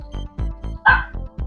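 A dog barks in a quick run of about six short, close, loud barks with a yelping one in the middle, sounding alone with no talk.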